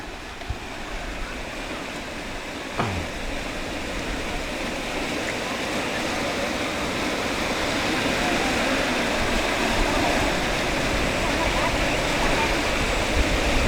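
Water rushing over the overflow weir on Huai Kong Si stream, a loud, continuous roar that stays steady and close and swells slightly over time, with a brief sharp chirp near the start.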